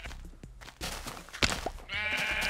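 Minecraft sheep bleat in a few short, nasal calls mixed with game thuds and clicks, moderately close and without talk.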